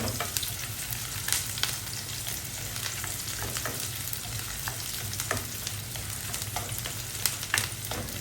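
Onions frying in a pan, with garlic about to be added, give a steady, crackling sizzle with scattered pops and light stirring clicks at a moderate, even level.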